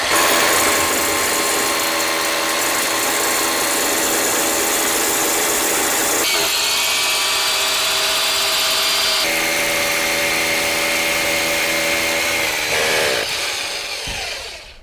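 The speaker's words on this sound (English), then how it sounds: "You just start the drill. You go down and just go right through the concrete like that." A power drill bores holes into a concrete floor to bolt down a safe, a loud, continuous grinding whine held close for most of the stretch, its pitch shifting as the bit works through before winding down.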